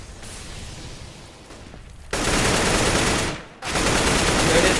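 Bursts of M4 rifle fire from a Counter-Strike match at IEM Katowice between Fnatic and Ninjas in Pyjamas, loud and dense, with a brief drop before the firing resumes.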